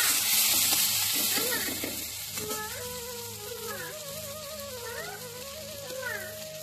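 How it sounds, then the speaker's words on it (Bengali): Semolina mixture with dried coriander leaves frying and being stirred in a pan, a steady sizzle with soft scraping, under a melodic tune playing in the background. "এবার নাড়িয়ে নেবো।"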